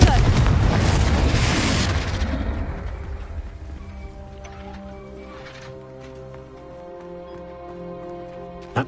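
A Confringo fire spell in Hogwarts Legacy goes off as one loud, explosive boom with a crackling burst, then fades into tonal game music and ambience.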